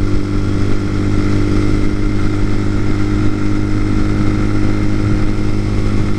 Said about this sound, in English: now that the transmission's broken in and I've gotten it through a few oil changes, it's shifting a lot smoother